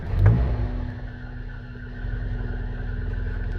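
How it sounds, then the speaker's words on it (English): A cold original Rover 75 P3 engine starting, with a brief loud crank and catch followed by a low, steady idle that swells slightly toward the end. "Ignition on, start."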